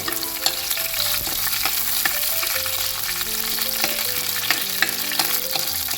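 Chillies and garlic fry in oil in a pan for a Kasaragod-style okra curry, giving a steady, loud sizzle throughout with occasional soft stirring scrapes.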